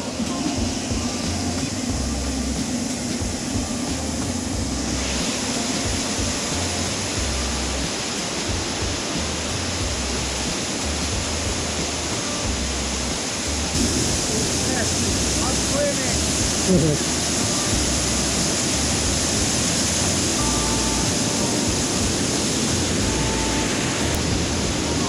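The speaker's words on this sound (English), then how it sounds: "There's only a little bit of rain, but man, it's completely flooding the bridge we have to walk across" Rainwater rushes over a flooded footbridge in an abandoned mining town. It makes a loud, continuous broadband roar close by, steady throughout and growing slightly fuller partway through.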